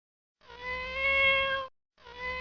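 A cat gives one long, clear, tonal meow close by, then a second meow starts after a short pause.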